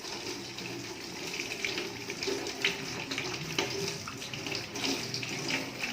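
Tap water runs steadily into a sink while hands are rinsed during a postpartum physical examination, a continuous moderate splashing hiss with small surges and no voices.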